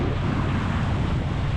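Steady broadband rush of calm sea and wind heard from aboard a fishing boat, continuous and loud, with no talk.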